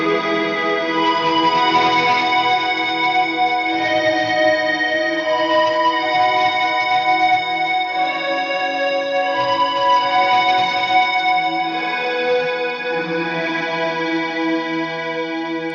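Strymon BigSky MX reverb pedal in Bloom mode set fully wet, a dense swelling wash of sustained guitar tones with shimmering overtones, steady and loud with no voices.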